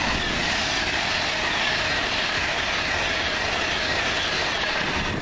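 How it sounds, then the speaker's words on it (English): A passenger train from Manchester Piccadilly to London Euston rushes past close by as a loud, steady roar of wheels and rails, continuous throughout with no voices. "My first train, 1 Alpha 23 from Manchester Piccadilly to London Euston."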